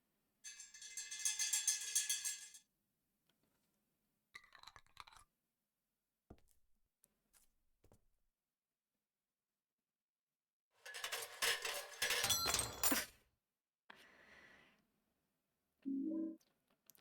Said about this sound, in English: Why does my pop sound like keys?